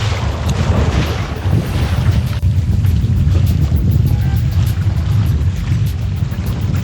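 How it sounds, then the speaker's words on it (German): Wind rushes over a sailing ship off Kiel during the Kieler Woche windjammer parade, with tall ships Gorch Fock and Alexander von Humboldt nearby; a constant broad roar of wind and water, close and steady throughout. "Ein bisschen mehr Wind haben wir wieder."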